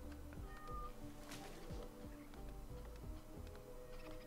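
A cat meows in the video game RimWorld, a few short game meows over a soft ticking, rhythmic background loop of game music and effects.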